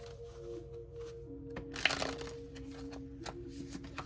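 Tarot cards being shuffled by hand, a soft riffling and crackling run of card noise with a sharper burst in the middle, close by and moderately quiet, with no talking.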